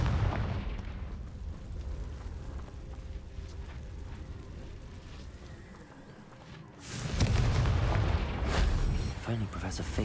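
A Confringo blasting-spell explosion in Hogwarts Legacy bursts in as a loud, broad boom after a steady rumbling game background, holding as a heavy roar for several seconds.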